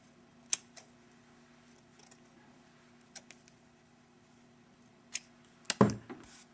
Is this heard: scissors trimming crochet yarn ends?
yes